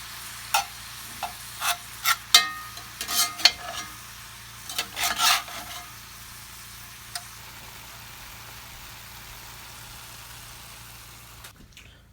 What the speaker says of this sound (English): we're gonna need to brown up some hamburger. So we got a hot pan.